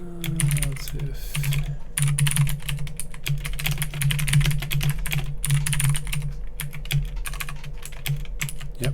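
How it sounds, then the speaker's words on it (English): Steady computer-keyboard typing runs throughout at close range, with rapid irregular keystrokes in bursts over a constant low hum, while someone works on code for a game with characters, abilities and CSV files. "yep, I'm good at typing, as you can see."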